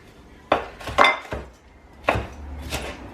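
A knife cuts an onion into strips on a board, giving a handful of separate, sharp knocks with clinks spread irregularly over a few seconds, close by and with nobody speaking.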